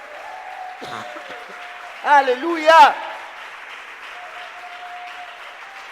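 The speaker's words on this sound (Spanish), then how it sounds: "Dale un aplauso al Señor." A church congregation applauds during a worship service, with soft, steady clapping in the background while a voice calls out loudly and joyfully over it midway through.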